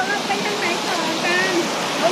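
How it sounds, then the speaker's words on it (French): A wild waterfall on a hiking trail near Wat Dipankara on Koh Samui gives a steady, full rushing roar of falling water. It carries on unbroken for the whole stretch with no talk over it. "Une jolie cascade, vraiment sauvage."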